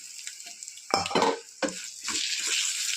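Tempering spices, with curry leaves about to go in, frying for a ridge gourd chutney, with sizzling and stirring in the pan and a few louder scraping bursts, no talk.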